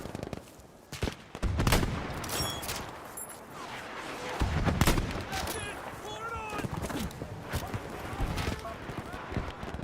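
Battlefield 5 gunfire crackles in bursts with rapid rifle shots and distant explosions, loud and continuous across the scene, with a voice talking over the game.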